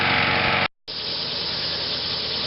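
A small Briggs & Stratton lawn mower engine runs steadily up close, with a brief near-silent dropout early on before the loud, even drone resumes.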